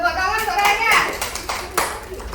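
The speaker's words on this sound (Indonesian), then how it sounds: "Bagus, tepuk tangan suaranya." Children applauding together in a classroom, a burst of clapping with a teacher and kids talking over and around it, close and fairly loud.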